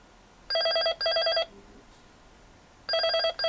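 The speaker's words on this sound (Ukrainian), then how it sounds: "трубка дзвонить," An apartment intercom handset rings in bursts of rapid electronic trilling, two pulses, a pause, then a third, close and clear in a quiet repair workshop.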